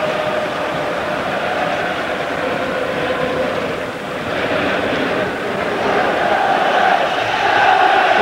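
Manchester United fans in a football stadium during a match against Feyenoord create a loud, sustained crowd roar that swells and dips, a continuous wash of distant chanting and noise with a voice faintly under it.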